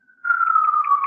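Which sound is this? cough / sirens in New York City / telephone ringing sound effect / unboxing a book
sirens in New York City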